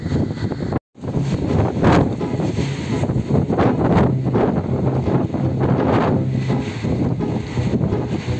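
A strong dusty wind in Kuwait roars steadily and loudly against the microphone, a dense rushing blast with gusting surges, a brief dropout near the start, and no voices.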